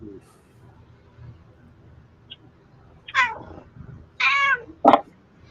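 A cat gives several loud, drawn-out meows close by after a quiet stretch, the calls separated by brief pauses, with faint low room noise underneath.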